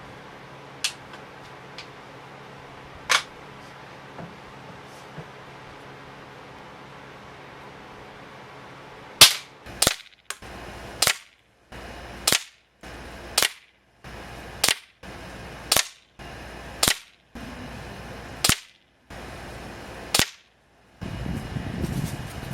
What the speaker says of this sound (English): I'm going to try the newly repaired Daisy 753 with the Daisy 257 pellet, flat nosed, first shot